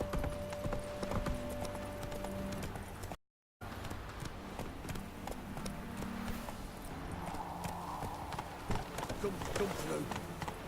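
Hoofbeats of Roach, Geralt's horse in The Witcher 3, clop steadily through the game world over a bed of ambient sound and music, with someone talking over them.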